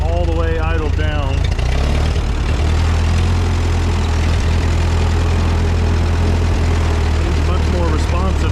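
A Ford 9N tractor engine idles low and steady, a close, loud rumbling throb throughout, with a brief higher mechanical whine at the start and end.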